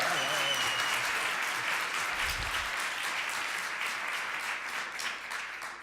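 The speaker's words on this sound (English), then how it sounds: "please give him an applause now" A debate audience applauds a speaker, a broad, steady wash of many hands clapping that thins slightly toward the end, with a brief low thump partway through.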